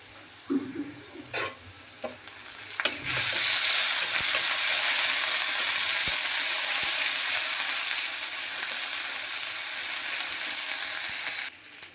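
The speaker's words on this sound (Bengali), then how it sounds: "পেঁয়াজ ভাজা হয়ে গেছে এখন দিয়ে দেবো আদা রসুন বাটা" Ginger-garlic paste dropped into a karahi of fried onions in oil, bursting into a loud, sustained hissing sizzle after a few clinks of a utensil, close and steady until it eases near the end.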